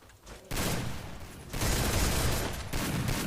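Rapid gunfire from the Free Fire battle royale game, dense bursts of shots running nearly continuously, loud and close, with a brief quieter gap before the firing surges again; no one speaks.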